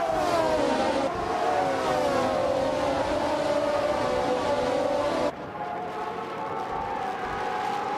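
Racing game cars, among them a classic 1975 McLaren, roar off the start at Rouen Les Essais, a dense sustained engine drone with rising whine that abruptly drops to a softer, thinner engine hum partway through.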